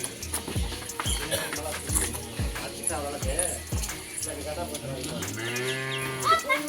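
Cattle lowing at a Mattu Pongal festival celebration with family, a few drawn-out moos rising near the end over busy background noise and voices talking throughout.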